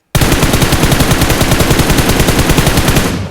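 A continuous loud burst of automatic rifle fire in PUBG Mobile, a fast steady stream of close shots lasting about three seconds before it cuts off.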